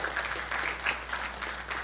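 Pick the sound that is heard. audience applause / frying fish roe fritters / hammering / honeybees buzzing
audience applause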